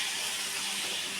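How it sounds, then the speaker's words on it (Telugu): Chicken sizzles in a pan with coriander leaves for Telangana-style chicken with tender tamarind leaves, making a soft, continuous hiss and crackle throughout with no voices. "చికెన్ వేసి ఇట్లా తిప్పుకోవాలి ఫ్రెండ్స్."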